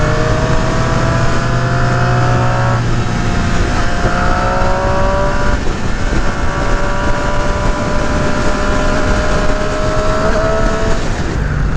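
A 2018 Triumph Street Triple RS motorcycle on a demo ride gives a loud, steady engine drone whose pitch climbs and then drops at gear changes, with rushing wind underneath.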